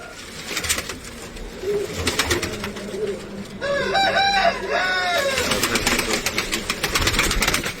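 Pigeons in a bird keeper's flock coo steadily, with a louder run of rising, throaty bird calls in the middle, close and fairly loud with no talking.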